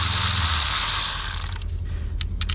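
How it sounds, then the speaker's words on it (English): A hand ratchet works loose a bolt on the brake rotor bracket of a KTM 150SX dirt bike, first a dense whirring rattle, then a series of sharp, close clicking bursts. "So, got this bottom bolt off. Getting this top bolt off."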